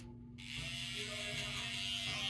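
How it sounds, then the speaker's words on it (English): A barber's electric trimmer buzzes steadily and close, its corner working a neck taper on a temple fade comb-over, starting abruptly after a brief silence and holding an even drone with faint clicking texture. "Just by using the corner of my trimmer"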